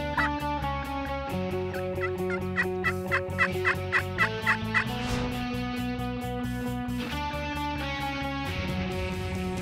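A wild turkey gobbles during a spring hunt, a quick run of rattling gobbles rising over steady background music midway through.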